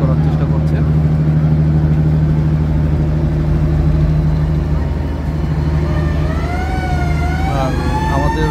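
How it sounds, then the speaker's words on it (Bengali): Passenger launch Prince Awlad 6 docks at Chandpur launch terminal with a loud, unbroken engine drone, and wavering horn-like tones rise over it near the end. "তো আপনারা দেখতে পাচ্ছেন এখন লঞ্চটি চাঁদপুর লঞ্চঘাটে পার্কিং করার চেষ্টা করছে।"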